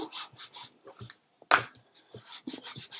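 Short rubbing strokes of a burnishing tool pressing a paper card piece flat for a handmade card, several close, dry scrapes in quick bursts with one louder swipe midway.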